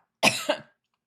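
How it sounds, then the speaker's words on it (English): A short burst of coughing, two harsh coughs in quick succession, close and fairly loud, with no talking. "I can't stop coughing all of a sudden."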